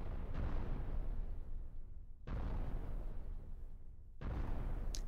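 Ship weapons firing and explosions in Cosmoteer: three heavy booming blasts, each rumbling and fading before the next, spaced about two seconds apart at moderate loudness.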